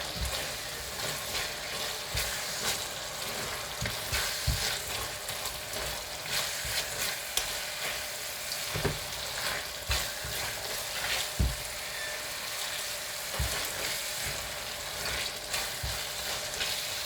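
Lamb mince and chickpea curry fries in a pan with a continuous soft sizzle, broken by occasional light stirring knocks, close and fairly quiet.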